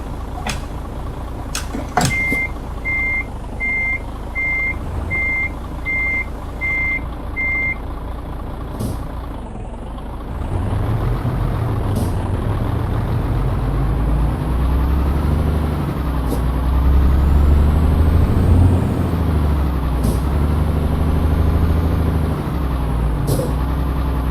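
A truck idles steadily nearby while a series of sharp reversing beeps sound in a regular rhythm, then the engine grows louder and deeper as it revs and moves, with brief air-brake hisses.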